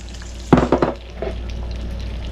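Eggs fry in a pan, a steady soft sizzle running throughout, broken near the start by a few sharper clanks and scrapes of a utensil against the pan.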